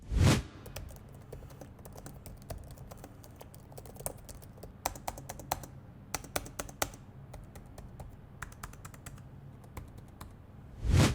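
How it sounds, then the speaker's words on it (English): Keys clatter on a laptop keyboard in quick, irregular bursts of typing, close and fairly quiet, with no talking. "it's a pretty solid keyboard, so here's a quick sound test for your reference"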